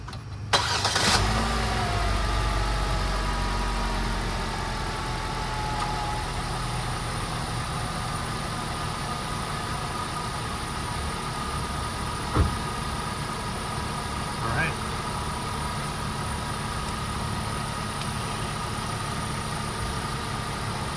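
A car engine cranks and catches, then settles into a steady, even idle for about twenty seconds, with a couple of faint clicks partway through. The sound is close and moderately loud, and nobody talks.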